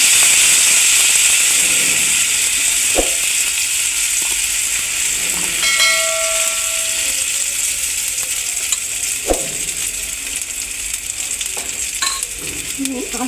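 Spoonfuls of vegetable pancake batter with onion drop into hot oil and sizzle steadily, a loud continuous hiss with small crackles and a few soft clinks close by.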